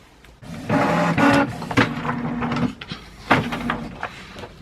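An inkjet printer feeds and prints an acetate sheet, with whirring mechanical motor passes, rollers and clunks in a few bursts, close by with no talking.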